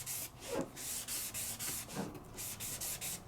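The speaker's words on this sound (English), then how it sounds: "Bring over my paper. And rub, rub, rub." Paper is rubbed by hand in a craft session with Ombre inks and glimmer, giving a soft, repeated scratchy swishing in quick back-and-forth strokes, close but quiet, with no talk.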